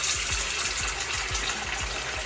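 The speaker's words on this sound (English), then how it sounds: "A good wash, fill it up with water again." Cold tap water gushes steadily into a basin being filled for washing collard greens. The pour is close and continuous, with no talking.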